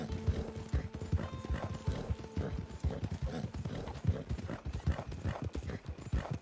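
Steady clip-clop of horse hooves trotting in the video game Red Dead Redemption 2 at a regular pace, close and fairly loud, with a faint musical tone underneath.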